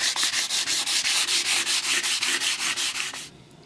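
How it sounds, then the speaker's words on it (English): Hand sanding of a wooden Astor KK radiogram cabinet: about fifteen regular rasping back-and-forth strokes, close and fairly loud, stopping near the end. "So I've just sanded it now."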